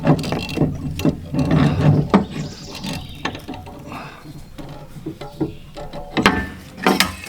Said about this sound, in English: Put it in the vise.